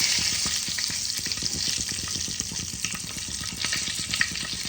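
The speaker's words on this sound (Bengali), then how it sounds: "এবার আমি ওই তেলেই হাফ চামচ গোটা জিরে সম্বারে দিয়ে দিলাম। দুটো তেজপাতা আমি দিয়ে দিলাম।" Whole cumin seeds and two bay leaves crackle and fry in hot oil, giving a continuous close sizzle with rapid popping spatters and light stirring, with no voices.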